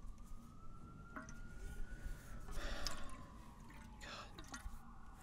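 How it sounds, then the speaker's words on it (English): A faint siren wails in the distance in Boston, its long tone drifting slowly under a steady hiss of background noise with a few soft clicks. "Living in Boston, you get a lot of sirens, like a lot, all the time, never stops."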